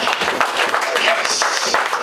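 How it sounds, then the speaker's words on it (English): Brief applause from a small audience at a magic club show after a trick, scattered clapping mixed with talking. "Give her a big round of applause"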